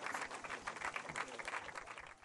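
Parents and younger students clap as a high school baseball team departs for the national tournament, a faint, steady patter of applause from a gathered crowd with no speech.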